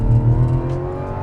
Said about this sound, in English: So watch, I can go ahead and floor it.